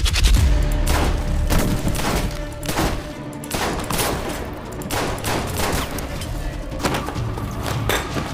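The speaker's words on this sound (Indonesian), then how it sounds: "Anggota lainnya menemukan Katarina, keduanya pun terlibat aksi baku tembak hingga perkelahian yang sangat seru." Gunfire in a film shootout: dense bursts of shots and sharp cracks repeat across the scene, layered with thumps and heavy background score, loud and close throughout.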